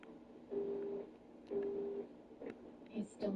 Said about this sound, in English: He's still not answering his phone.